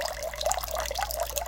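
Water pouring steadily from a container under pressure in a science demonstration, a continuous bubbling, splashing stream with a low constant hum underneath, close and even throughout with no talking.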